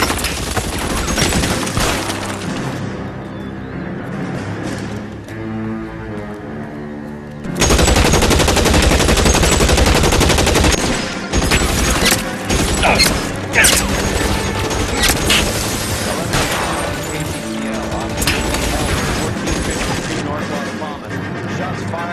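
Gunfire in the 1940s Los Angeles crime game L.A. Noire during a vice case, dense bursts of shots and crashes over a loud tense music score, with a sudden louder barrage midway.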